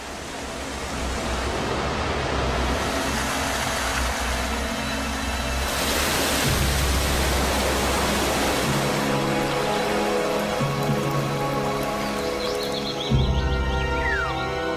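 Heavy rainwater rushing down countless waterfalls, a dense, steady roar of falling water that holds loud and even throughout, with no voices.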